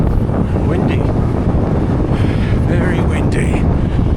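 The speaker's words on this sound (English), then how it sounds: "It was incredibly windy" Strong wind roars and buffets the microphone in a loud, constant rush with gusty surges throughout, during a cycling event in the New Forest, UK.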